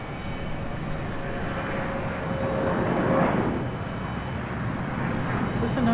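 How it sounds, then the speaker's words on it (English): A JetBlue airliner pushes back at Charlotte Douglas International Airport, its engines giving a steady, moderately loud broadband roar from a distance that swells slightly midway, with faint voices nearby. "we got a JetBlue pushing back over there"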